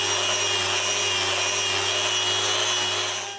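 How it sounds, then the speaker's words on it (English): Wood patched with epoxy being sanded, a steady continuous rubbing and abrasive hiss with a faint low hum beneath, close and fairly loud throughout with no pauses. "So I fill those holes with epoxy, and now I need to sand this again."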